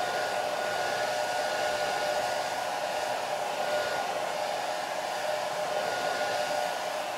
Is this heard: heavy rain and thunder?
no